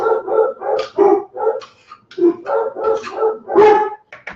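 A dog barks repeatedly at close range, a rapid series of loud, sharp barks and yips in uneven bursts with brief pauses, alone in a home setting.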